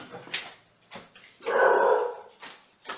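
A pet dog barks in short sharp bursts indoors at sunrise, several separate yips and barks spaced across the moment, one longer louder whining bark in the middle, close to the listener.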